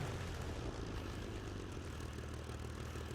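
Propeller airplane engines drone in a combat flight simulator video game, a loud steady roar that holds without a break and has no speech over it.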